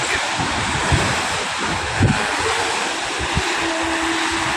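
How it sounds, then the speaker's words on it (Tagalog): Waves wash up on the Manila Bay shoreline at Navotas, a continuous broadband roar of surf with steady wind buffeting the microphone and a few heavier splashes, and no voices. "Nakita nyo naman po yung alon mga kabising."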